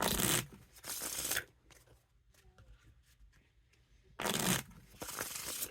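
Two loud bursts of thick Aristocrat Hollywood Casino playing cards being bridged, each a fast rushing flutter, the second beginning after a quieter stretch of soft handling and rustling.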